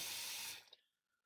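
Water rushing in a kitchen sink as it drains, a loud wash that cuts off abruptly after half a second, leaving a faint trickle and drip.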